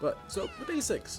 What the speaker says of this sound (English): if you hear my little kitty in the background